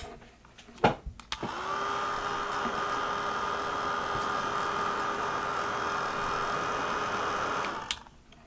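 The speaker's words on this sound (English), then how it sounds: "dry it with my heat gun" A heat gun blows a loud, steady whirring hiss for several seconds to dry crackle paint, starting and stopping with brief clicks.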